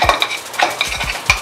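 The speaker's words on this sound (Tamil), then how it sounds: "ஸோ லைட்டாக இந்த வெங்காயத்தோடு இதை சாட்டே பண்ணிடுங்க" Onions being sautéed with Kashmiri chili powder in a pan: a spatula scrapes and stirs in a few quick, close strokes over a soft frying sizzle, with no talking.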